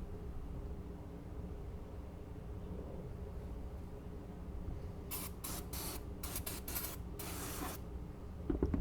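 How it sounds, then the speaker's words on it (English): Brake cleaner sprayed onto the greasy gears of a KitchenAid mixer, several short hissing bursts in a row over a steady low background hum, close by. "So I'll spray a little bit,"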